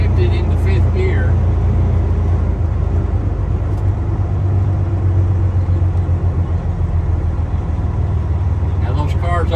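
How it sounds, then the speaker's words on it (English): A truck engine drones steadily at cruising speed in 5th gear on a training road course, a loud constant low rumble with road noise, while someone talks over it. "Now I went ahead and shifted into 5th gear."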